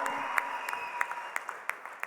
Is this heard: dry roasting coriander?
no